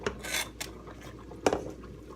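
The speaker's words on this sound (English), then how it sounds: "I'm going to go ahead and pour these peas" Peas tumble into a pot of rice, a few short scraping, rattling bursts against the pot, close and fairly quiet, with no talking.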